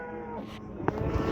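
At a livestock market a cow lets out a short, close moo, with rustling and faint background noise around it.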